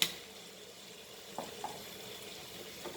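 Penne pasta being stirred with tomato sauce in a pan, a faint steady sizzle broken by a few soft scraping knocks of a spoon against the pan.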